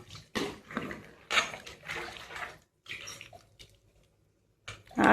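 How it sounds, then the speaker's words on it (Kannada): Water is poured into a cooking pot of chicken curry with masala. It comes as several short splashing bursts with gaps, ending in a louder gush, with no talking. "ಮತ್ತೆ ಸುಮ್ಮನೆ ನೀರು ಹಾಕೋದು"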